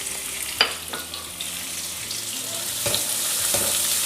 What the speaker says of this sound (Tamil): ஒரு மீடியம் சைஸ் வெங்காயம் சேர்த்துக்கலாம். இது நல்லா வதக்கி விட்டுக்கலாம்.